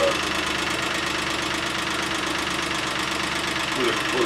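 A Geo car engine idles steadily just after a lifter repair, a rapid mechanical ticking riding over the low, even hum at close range, with no change in pace throughout.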